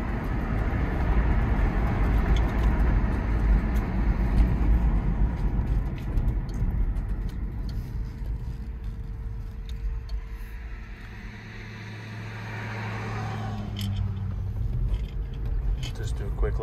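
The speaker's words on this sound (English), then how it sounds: "Basically, I can just give you a little acceleration" A Toyota Tacoma pickup converted to electric drive with Tesla components accelerates in a parking lot, giving a low rumbling road and motor drone that fades and then swells again as a faint rising whine emerges.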